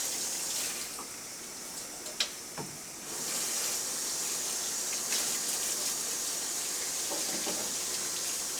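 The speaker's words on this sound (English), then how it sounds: "I got a little bit of the egg white on my fingers, so I am going to wash my hands" Hands rinsed under a running kitchen tap after handling egg white, a steady broadband gush of water filling the sink for several seconds, with a couple of brief knocks partway through.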